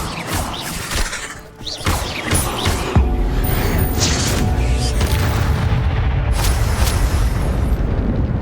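An Incendio fire spell goes off in Hogwarts Legacy with a loud booming blast and crackling shatter, followed by a sustained roaring, rumbling burst that stays loud to the end.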